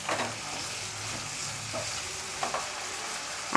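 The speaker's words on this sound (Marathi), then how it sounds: "तेल थोडंसं गरम झाल्याच्या नंतर यामध्ये आपण कांदा, टॅमॅटो घालूया." Onion and tomato sautéing in hot oil in a pan for a clam masala, a steady soft sizzle with occasional stirring scrapes, close and alone.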